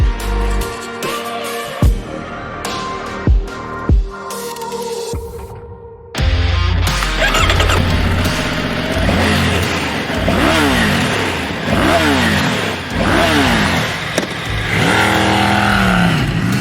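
A 2021 Triumph Tiger Sport 850 motorcycle rides off-road on a dirt circuit. A few sharp knocks come first, then the engine roars loud and close, revving up and down repeatedly as it pulls through the gears.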